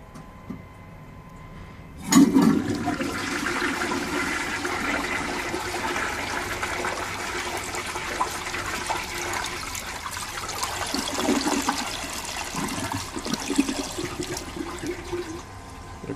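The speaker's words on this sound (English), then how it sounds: "I'm going to try the rag test, so" A 1944 Eljer Waco toilet flushes a rag with a sudden loud rush of water, followed by a long steady swirl and trickle as the bowl drains and refills, close up.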